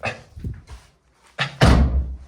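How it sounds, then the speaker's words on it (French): A door blown shut by the wind lands with one loud, heavy bang after a stretch of faint rustling and knocks, the slam ringing out briefly at close range. "La porte s'est fermée avec le vent."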